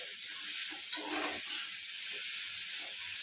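Onion sautés in a pan until pink, a soft continuous sizzle with a few brief louder stirring bursts near the start, heard close and without talk.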